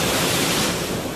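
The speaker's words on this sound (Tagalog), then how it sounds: "Ang hampas kasi ng alon, mas mataas pa sa akin." Loud, continuous roar of heavy storm surf at sea, broadband and churning with no pauses, rough waves breaking close by.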